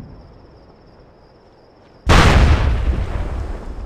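A grenade goes off in the tactical shooter SOCOM Combined Assault: after a quiet stretch, a single sudden loud blast erupts and leaves a rumbling, lingering roar.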